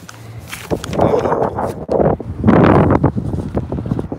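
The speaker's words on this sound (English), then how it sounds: "Sorry, it's a little windy here." Wind buffets an outdoor microphone outside the Ada, Oklahoma Police Department, a loud, continuous rumbling roar that swells in gusts, with faint footsteps or movement underneath.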